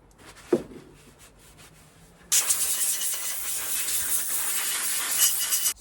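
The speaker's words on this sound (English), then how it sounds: "now all I'm going to do is use WD-40 in all the little holes and blast it all out" WD-40 sprayed in a loud, steady hiss into the small holes of an engine crankcase during a CB Performance 2017cc build, preceded by a single sharp knock and a faint hum.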